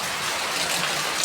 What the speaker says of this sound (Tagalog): ang lakas ng ulan dito sa Laguna ngayon